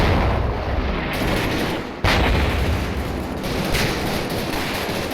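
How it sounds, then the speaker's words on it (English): Heavy mortar fire in Combat Mission rolls on as dense continuous rumbling blasts with one sharp loud crack midway, under steady battle noise. "they hold their positions under the heavy mortar fire"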